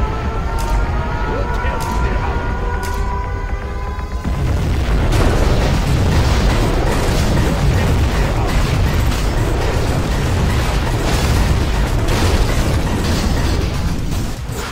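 Nuclear missile strike in Command and Conquer Generals Zero Hour with an apocalyptic mod, a Chinese ICBM: a few tones and clicks, then a sustained, loud roaring rumble of explosions under a game voice.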